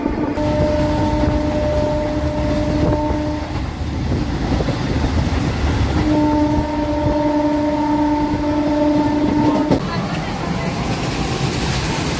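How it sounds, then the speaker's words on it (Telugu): At Bullipadu railway station a train rolls past in a constant heavy rumble, and two sustained horn-like tones sound a few seconds apart over the din. "బుల్లిపాడు రైల్వే స్టేషన్లో ఏదో ట్రైన్ వెళ్ళింది ఏం ట్రైన్ అది"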